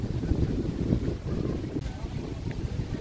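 Strong, cold wind buffets a microphone outdoors during Canada Day celebrations in Canada, a steady low rumbling roar that runs unbroken through the whole stretch.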